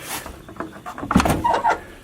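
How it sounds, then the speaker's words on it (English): Door of an old Dodge Challenger left sitting for 45 years being pulled open with effort, a short burst of scraping, creaking metal clatter and latch clunks, close and moderately loud with no talk. "Also, the door is a little bit difficult to open."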